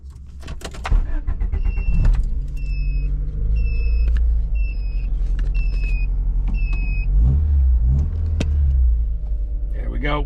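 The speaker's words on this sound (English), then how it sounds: "Get her started, see what she sounds like" A Honda CRX with a newly welded exhaust cranking and starting, with a repeated chirping warning beep, then settling into a loud, rumbling idle close by.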